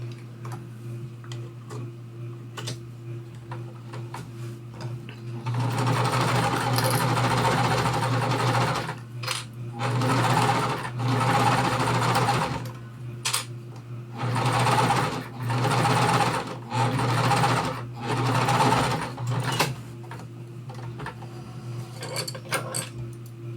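Sewing machine stitching cotton quilt pieces for a small mystery quilt, running in several steady bursts of rapid, close stitching with short pauses between, over a constant low hum.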